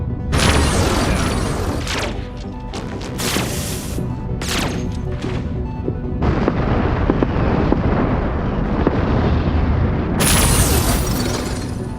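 Bombs go off in the space strategy game Endless Space 2 in a continuous barrage of loud, booming blasts and crashes, with bursts layered over one another and almost no pause.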